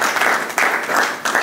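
An audience applauds a spoken motto at a Blic commemoration event, a dense steady patter of many hands clapping with two sharper swells.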